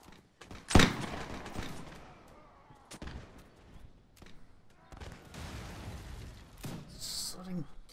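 Cannon fire in the Mount & Blade L'aigle mod, Napoleonic era with Sharpe's Rifles: one loud booming shot early on, followed by scattered distant thuds and cracks of battle with voices talking over them.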